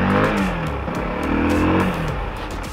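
An FKM 3GP motorcycle engine revs up through rising gear pitches, close and loud, with rhythmic changes as it accelerates.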